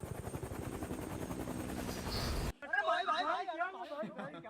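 A helicopter's rotor chops loudly for a couple of seconds, then the sound cuts abruptly to a person talking.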